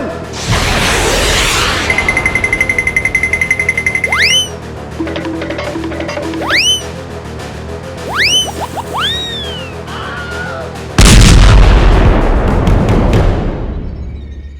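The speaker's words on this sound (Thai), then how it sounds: "บังไฟระเบิดอีกแล้ว" Cartoon bamboo rocket effects: rising whistles and swoops, then a sudden loud explosive blast as the rocket explodes, rumbling and fading away.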